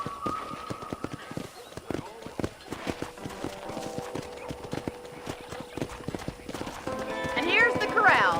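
Horses in a corral in the Western video game Red Dead Redemption: steady clip-clop of hooves and a few whinnies over an ambient game soundscape, with a voice talking in places.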